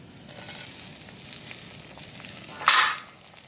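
Chopped tomatoes drop into a pan of frying garlic in a village kitchen, setting off a short, loud burst of sizzling that rises over a quiet background hiss and then fades.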